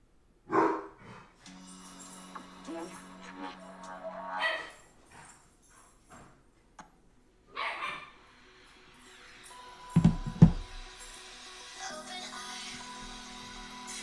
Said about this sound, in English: And now everybody can hear the dogs wrestling in the background.